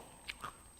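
Crunchy dried apple chips bitten close up, with a couple of brief crisp crunches standing out against a quiet background.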